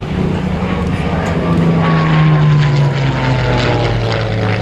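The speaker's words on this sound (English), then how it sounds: "The B-17 is still flaps down and reducing your speed and adjusting the pitch of the propeller" Boeing B-17 propeller engines drone loudly and steadily on landing approach, a low multi-engine hum with a slowly falling pitch, close and continuous for the whole span.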